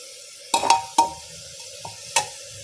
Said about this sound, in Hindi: इसे आराम आराम से हल्के हाथों से मैं मिक्स कर लूँगी।